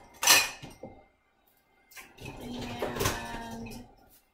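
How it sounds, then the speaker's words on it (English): A colander pulled out from among dishes in a home kitchen: a sharp clatter of metal and crockery, a pause, then a longer rattling, scraping shuffle with a ringing clink. "let me get my colander out"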